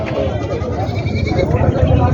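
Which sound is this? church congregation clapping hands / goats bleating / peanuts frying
goats bleating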